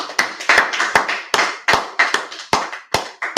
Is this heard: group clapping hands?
yes